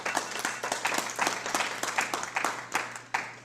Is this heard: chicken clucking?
no